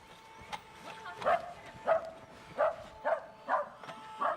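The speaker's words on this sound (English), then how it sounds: "Oh, it's a dog." A dog barks repeatedly at a robot, about six sharp, close barks spaced roughly half a second apart, over a faint steady hum.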